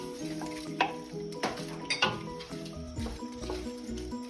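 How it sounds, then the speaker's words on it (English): Lentils and seasoning are stirred in a heavy-bottomed pot, giving a soft sizzle beneath scraping and knocking strokes of a spoon against the pot at close range, with no talking. "Try to stir everything around so that the seasoning can get all over the lentils"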